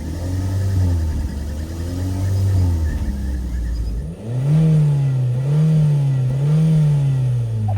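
Two small SUV engines, a 2025 MG ZS and a Chery Tiggo 4 Pro, rev in turn: a low rising-and-falling drone that cuts off, then a second engine revving in repeated swells, loud and close.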